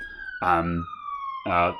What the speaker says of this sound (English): ambulance coming past.